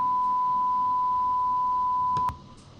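A steady single-pitch signal generator test tone at minus 18 dB holds unbroken for over two seconds, then cuts off abruptly with a short click, leaving faint background hiss.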